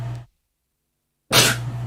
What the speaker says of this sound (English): That's a sneeze.